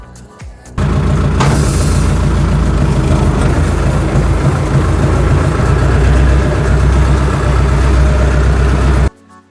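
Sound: tractor engine idling

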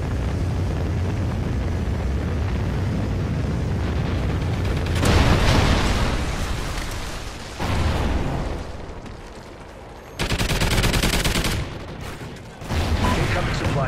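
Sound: Trinity rocket strike and gunfire in video game Call of Duty Ghosts

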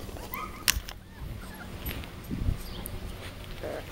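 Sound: puppies whimpering

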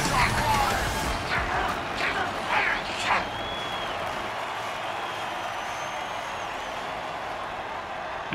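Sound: crowd cheering after touchdown in football video game

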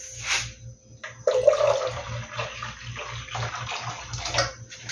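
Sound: water pouring into a cooking pot for bean soup

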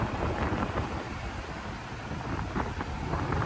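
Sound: strong wind blowing on the shore

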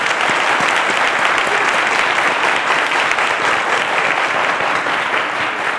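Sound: studio audience applause on a quiz show

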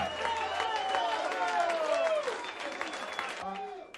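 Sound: audience applauding the band

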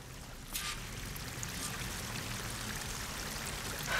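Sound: waterfall flowing in the video game Horizon Forbidden West

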